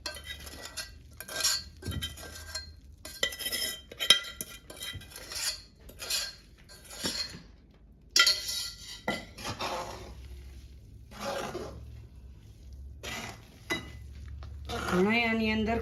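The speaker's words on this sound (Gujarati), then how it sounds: "આપણે ચાસણી આની અંદર મિક્સ કરી દઈશું." A spoon stirs sugar syrup into a mixture in a metal pot, with repeated scraping and clinking against the pot in uneven bursts, close and moderately loud.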